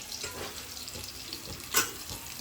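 Muthiya dumplings for undhiyu fry in ghee with a soft, steady crackling sizzle and a brief louder splash of bubbling partway through.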